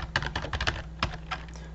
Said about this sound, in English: And so we're going to type something.